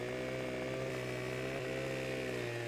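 Chainsaw in the video game Farming Simulator 2015 running steadily at high revs, a loud buzzing engine drone with rich harmonics and slight pitch dips, close and unbroken, with no talk over it.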